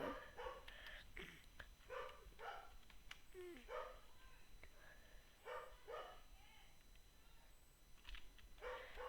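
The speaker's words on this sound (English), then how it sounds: "Stop barking!" Several dogs barking repeatedly indoors, a run of sharp barks and yips with some whimpering, moderately near, while a person talks over them.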